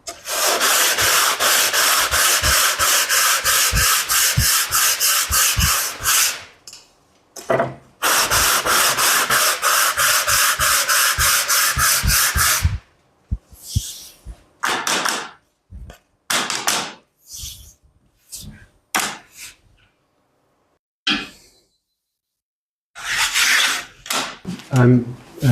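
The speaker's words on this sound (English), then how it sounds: "Sometimes I use some sanding." A wooden rib for an oud soundbox is sanded by hand in long runs of rapid, rhythmic back-and-forth rasping, close and loud, broken by pauses and shorter bursts of strokes near the end.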